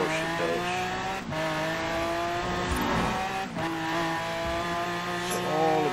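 A 2010 Mosler MT900S race car in Forza Horizon 4 screams at high revs in a speed trap run on a rainy road, its engine note steady and loud with brief dips at gear shifts and faint tire noise, no talking.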